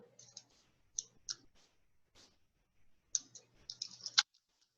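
Soft clicking keystrokes on a computer keyboard come in short scattered bursts with pauses between, faint and close in a quiet room.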